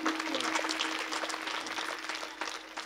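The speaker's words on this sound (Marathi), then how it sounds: "साऊंड सिस्टीमसाठी मला वाटतं सर्वांनी एकदा जोरदार टाळ्या वाजवा." Audience at a Hindu devotional kirtan gathering, an akhand harinam saptah, claps loudly in a sustained burst of applause for the sound system, dense and steady throughout, with a faint steady hum beneath.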